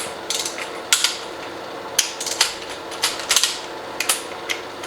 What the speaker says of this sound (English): That if you're slow with the torque wrench,